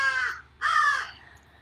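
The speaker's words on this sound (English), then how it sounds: "listen to the birds there." Two loud, harsh crow caws from birds outdoors, close by and clearly separated by a short gap, with no other sounds competing.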